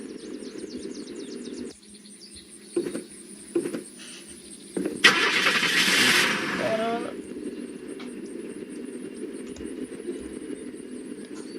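A car engine starts in the survival game Unturned: a brief cranking burst then a rough idle hum, set over steady game ambience with a few sharp clicks beforehand.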